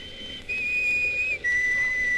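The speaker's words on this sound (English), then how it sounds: "Remember that whistle?" Two sustained whistle blasts are heard in an old-time radio drama. The first note is slightly higher and drops to a lower second one after a short break. Both are clear and fairly loud over a faint background, with no talking.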